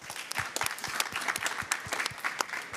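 Applause from a conference audience at a COP29 morning session, a fairly faint patter of individual claps with distinct sharp hand strikes in an uneven rhythm, no voices on top.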